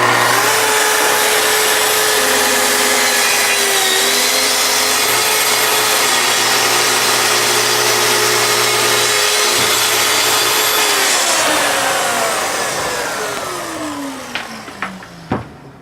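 A plunge saw rips loud and steady through a wooden shelf for about twelve seconds, its motor pitch dipping slightly mid-cut, then winding down with a few sharp knocks and clicks at the end.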